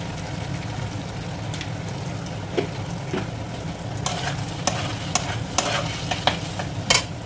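Food stirred in a frying pan while cooking chicken fried rice, with a steady sizzle and repeated sharp scrapes of a spatula that grow busier toward the end, close up with no talking.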